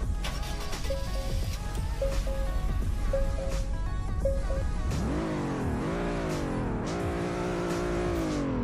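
An Acura A-Spec car engine in the Roblox Greenville video game idles with a steady synthetic drone, then revs up in several rising and falling sweeps, fairly loud and alone.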